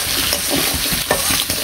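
Pieces of katla fish frying in hot oil in a village kitchen, a steady loud sizzle with occasional stirring scrapes, close and continuous with no talk.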